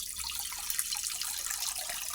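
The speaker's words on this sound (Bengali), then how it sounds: "তো ডিম সিদ্ধ এখন দিলাম জল" Water is poured into a pot for boiling eggs in a home kitchen with a clay stove, giving a steady, close splashing rush that runs without a break.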